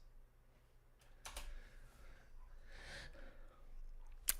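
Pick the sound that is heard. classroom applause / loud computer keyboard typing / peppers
loud computer keyboard typing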